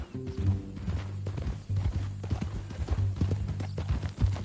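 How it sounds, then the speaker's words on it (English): Horse hooves clip-clop steadily in Red Dead Redemption 2, a close, rhythmic run of hoof knocks that continues throughout at a walking pace over a low background. "That a new horse?"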